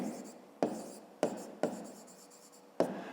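Pen or chalk writing out a maths solution for a fifth-grade problem, scratchy strokes with several sharp taps at the start of words, close and fairly quiet, no talking.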